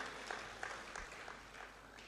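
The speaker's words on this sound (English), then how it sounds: "Please, another round of applause" Applause from the audience at an interactive evening event with a vice president, a soft, distant patter of clapping that stays fairly even throughout and is heard faintly from across a large room.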